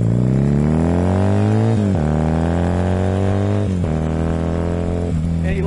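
A motorcycle engine revving hard through the high revs, loud and close, with rising pitch climbing steadily and dropping sharply at each gear change, about three times, with no talking.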